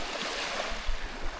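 Sea waves washing on the shore of Jomalig island, a soft continuous wash with a few low surges, fairly near and alone without talk.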